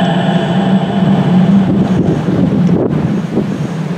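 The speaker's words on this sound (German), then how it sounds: "Und wie er bestimmt bemerkt, ist es jetzt hier sehr, sehr windig und kalt," Strong, cold wind buffets the microphone outdoors, a steady loud rumbling roar with gusty swells and dips, no voices over it.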